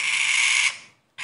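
A raspy, hiss-like cucak keling bird screech holds steadily, then fades out, followed by a brief silence before it starts again.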